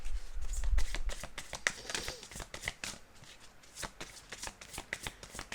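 Oracle cards being shuffled for an Aquarius weekly reading, a quick riffling patter of card flicks running steadily throughout at close range, with no talking over it.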